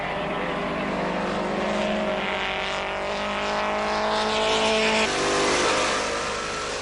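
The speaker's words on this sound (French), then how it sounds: "prend la tête avec l'AC Cobra coupé Daytona de 1960" A 1960 AC Cobra Daytona coupé screams past in a two-hour race, its loud engine note climbing and falling as it accelerates, with other race engines droning around it.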